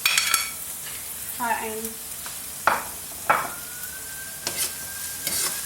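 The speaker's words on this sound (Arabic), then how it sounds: "وهماته هيجي تحمسون البصل والثوم" Onion, garlic and sweet pepper sizzle softly in a hot pan while being stirred, with scattered utensil scrapes and clinks against the pan and a voice speaking briefly at the start.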